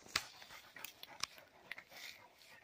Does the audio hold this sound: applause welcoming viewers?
no